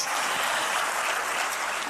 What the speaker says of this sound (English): A big round of applause for Jean-Guy Africa